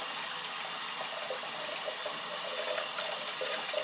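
Running tap water streams steadily into a sink while razor blades are rinsed under it, a continuous close, even gush with no talk.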